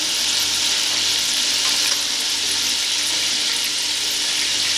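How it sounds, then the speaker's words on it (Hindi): Garlic and ginger frying lightly in a pan for fish curry, giving a steady, close hiss and sizzle throughout with no talking. "बस ये लहसुन अदरक को हल्का सा भूनेंगे"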